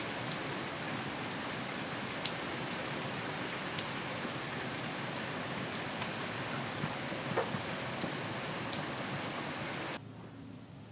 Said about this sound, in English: It's really raining out there.